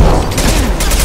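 Gunfire in the video game Mass Effect 2 comes as a loud, dense burst of shots and impacts crowding a single second of battle noise.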